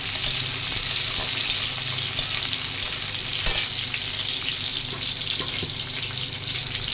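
Sliced onion fries with red leafy greens in a pan, a loud, steady, close-up sizzle that runs without a break for the whole stretch, with no talking over it.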